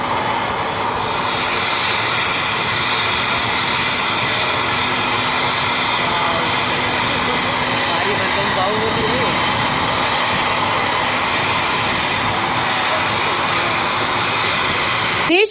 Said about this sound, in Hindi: सेना के विमान MI-17 से पुष्कर के पास बने हेलीपैड पर उतारा गया।